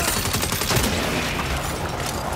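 Rapid turret gunfire in the video game Saints Row rattles continuously, a dense, loud stream of overlapping shots with explosive booms mixed in.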